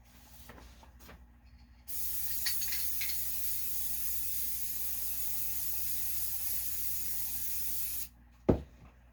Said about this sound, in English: And we're going to clear coat this next one.